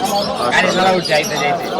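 Pigeons coo and chirp softly at a Dhaka market amid a busy wash of crowd chatter and market noise, the calls short and scattered throughout.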